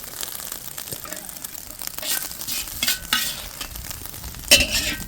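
Eggs frying in a pan give a steady close sizzle, broken by scraping stirs and a sharp utensil clink near the end.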